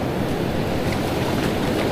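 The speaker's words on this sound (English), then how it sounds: "There's some big waves out there still" Big ocean waves of six to seven feet on a beach with strong current, a continuous broadband roar of surf close by, with wind noise on the microphone.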